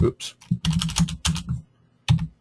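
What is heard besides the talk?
somebody typing on a computer keyboard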